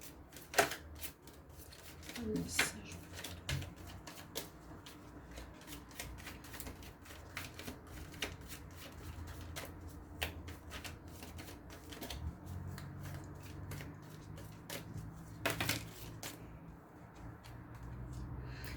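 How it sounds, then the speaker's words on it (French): Tarot cards shuffled and handled during a horoscope reading, giving soft riffling and crisp slapping clicks with a few sharper snaps, close and fairly quiet over a faint low hum. "On va tirer quelques cartes pour le sentimental"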